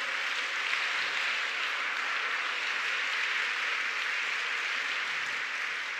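A church congregation applauds for God, an even, sustained hiss of many hands clapping at moderate loudness, steady from start to finish with no voices.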